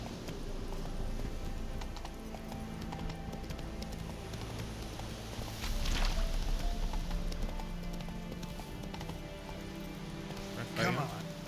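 Horse hooves clip-clop steadily through The Witcher 3 as a mount is urged along, a continuous muffled rhythm under game ambience, with a louder patch midway and a talking voice over it.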